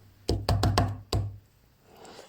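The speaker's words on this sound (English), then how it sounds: "A few minutes later, Red Riding Hood knocked on the door." Knuckles rap on a wooden door in a fairy-tale storybook scene: four quick, sharp knocks followed by one more after a short pause, close and fairly loud against a quiet background.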